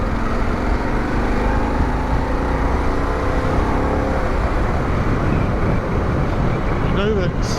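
A Harley-Davidson Pan America motorcycle accelerates hard in sixth gear on an open road, a steady loud engine drone mixed with heavy wind rush, with a rider talking over it.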